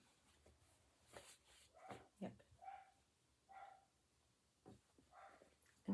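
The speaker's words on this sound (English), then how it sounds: "now the dogs are barking out the back," Dogs bark outside behind the house, several distant, muffled barks and yips scattered irregularly across the stretch amid low background noise.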